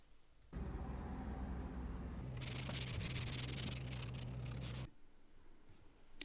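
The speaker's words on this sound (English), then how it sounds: "I gave the whole piece just a light sand over" Light hand sanding on an antique egg incubator with a kerosene heater: a dense, scratchy rubbing runs for about four seconds, getting brighter partway through, then cuts off into near quiet.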